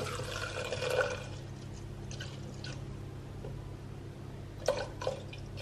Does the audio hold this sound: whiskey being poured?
yes